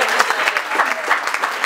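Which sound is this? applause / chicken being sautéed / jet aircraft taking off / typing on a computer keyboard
applause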